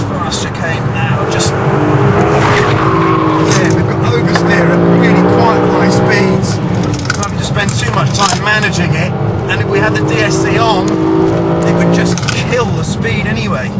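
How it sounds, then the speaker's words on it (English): Nissan GT-R driven hard through a fast chicane on track, oversteering at high speed: a loud, sustained engine note rises and falls close by while someone talks over it throughout. "Into this fast chicane now, just... Yeah, we've got oversteer at really quite high speed."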